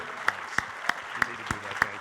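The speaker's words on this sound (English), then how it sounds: "how about a round of applause for Chris Mellon, our leader?" Slow, evenly spaced claps, about six sharp strikes roughly a third of a second apart, from an audience at the close of a presentation, fairly near over a low room hum.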